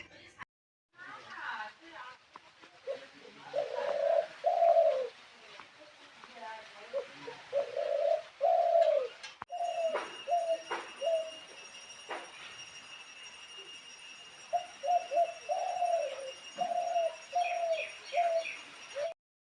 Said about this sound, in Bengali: এদিকে দেখো বন্ধুরা পাখি গাছে কি সুন্দর ডাকতে আছে